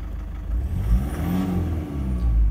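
A diesel engine with a suspected cracked piston is given a light rev, rising in a low rumbling surge and then dropping back quickly toward idle, close and fairly loud with no talking.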